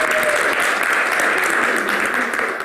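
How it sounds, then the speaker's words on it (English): Steady crowd applause, dense and continuous clapping throughout, fairly loud with no pauses. "Give a round of applause for that."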